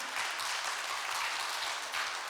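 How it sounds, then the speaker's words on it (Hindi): A church congregation claps in praise of the Lord during a Hindi prayer service, with dense, steady applause filling the room for a couple of seconds and no voices over it. "ताली प्रभु के लिए"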